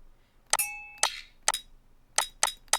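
Bright metallic percussion hits ring out one at a time, a clanging, clinking rhythm of sharp strikes with brief ringing tails.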